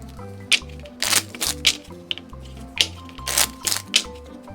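Cards are shuffled and riffled in quick crackling bursts, close up, with a few soft taps between.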